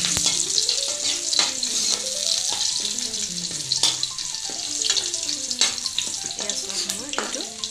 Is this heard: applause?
no